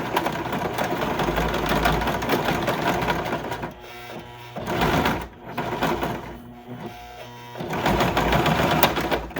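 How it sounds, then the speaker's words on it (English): A sewing machine stitching across thick fabric for a rustic primitive snowman craft, its rapid mechanical chatter running loud and steady, pausing twice briefly, then speeding up again near the end. "I'm going to sew across there"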